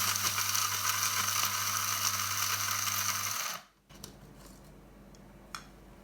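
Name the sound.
grinding dry-roasted achar gosht masala spices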